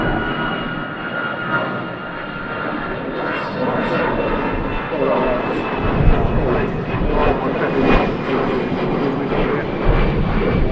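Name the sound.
EasyJet Airbus A320 jet aircraft performing a go-around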